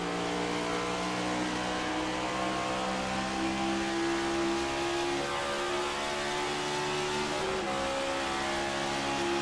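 An iRacing stock car at Darlington, its engine droning steadily at a loud, sustained pitch, with a clear gear shift partway through as the tone drops and climbs again, alone without talk.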